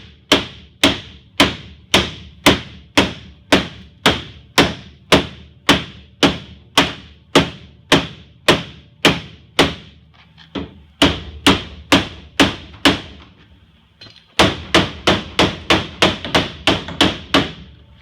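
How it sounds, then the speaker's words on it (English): A hammer pounding thick steel on a Crown Vic, a long series of loud, evenly spaced heavy thuds close by, with a brief pause before the blows resume at a slightly quicker pace. "For this, you just need a hammer."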